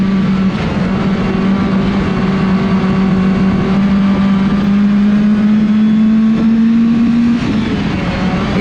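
A race car engine holds high revs through a turn, a loud steady drone whose pitch climbs gradually and smoothly, alone without voices.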